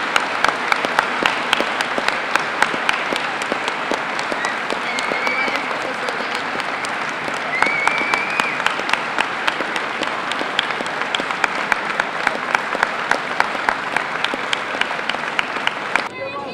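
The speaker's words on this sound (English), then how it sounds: "with a big round of applause" A school gathering honoring graduating seniors breaks into long, loud, crowded applause lasting over sixteen seconds, with sharp individual claps throughout and voices faintly mixed in.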